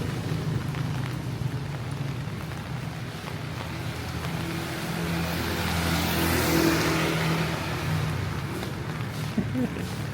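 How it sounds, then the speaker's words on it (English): Rain falls on a city street in historic downtown Angeles City, a soft steady hiss of drops with passing traffic rumbling, and a vehicle swells louder and fades midway. "This is just a walk in the rain."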